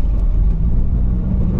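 A car engine labors loudly in first gear while climbing a steep uphill road with a sharp bend near Tagaytay and Talisay, carrying three occupants; a steady close rumble with no pauses.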